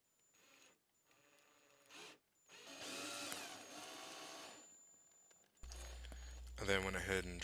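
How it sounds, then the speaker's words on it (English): A power drill twisting floral wire whirs in short bursts and then a longer steady run, with music playing underneath and a sharper whine near the end. "ended up twisting them together in my drill"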